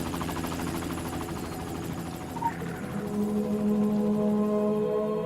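Helicopter in the video game Secret World Legends, a steady rotor drone that swells louder in the second half over a low continuous hum, with no talk.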